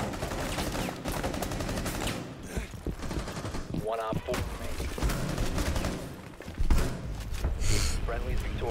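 Rapid gunfire crackles through a Rainbow Six Siege gunfight, with bursts and single shots and a few heavy thumps, while players talk over the action.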